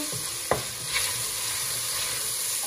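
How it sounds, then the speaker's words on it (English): Onions frying and sizzling in a pot for Swahili pilau, a steady broadband hiss throughout with a sharp stir or clank of a utensil early on, close and fairly loud, no talking. "Now we karanga our onion."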